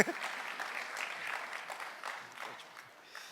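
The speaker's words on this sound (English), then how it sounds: "Oh, big applause for our waiter here" A crowd at an arm wrestling match applauds the waiter, a short burst of scattered clapping that thins out toward the end.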